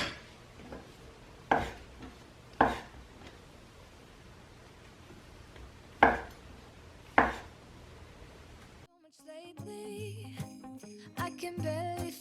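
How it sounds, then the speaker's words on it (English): A knife cuts cinnamon rolls into quarters on a board, making five sharp, separate chops with quiet gaps between them, followed by a short burst of soft clinking kitchen sounds. "And then each of these, we're just going to cut into 4ths"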